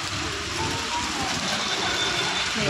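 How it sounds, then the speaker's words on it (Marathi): Heavy rain pours down in a dense, steady roar that fills the whole stretch without a break. "पावसात थांबलोय, पाऊस जोरात चालू आहे"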